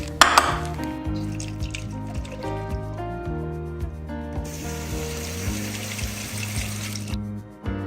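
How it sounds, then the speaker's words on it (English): Canned beans get rinsed under running tap water in a colander, a steady wash of flowing water and drips sitting beneath prominent music, growing louder in the second half. "I took my colander, I took my can of beans, I poured it down the drain and I rinsed them out"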